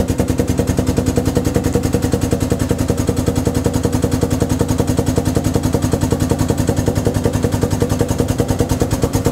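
An ATEX telescopic drum rotator with power clamp and load cells lifts a 200-litre L-ring plastic drum, its motor running with a loud, steady, fast mechanical pulsing that does not let up.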